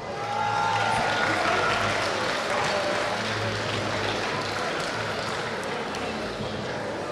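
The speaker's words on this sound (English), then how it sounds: "Let's give them a round of applause." Crowd in a basketball tournament gym applauding the third-place under-19 boys team, a sustained, moderately loud roar of clapping that holds steady throughout, with an announcer's voice faintly underneath.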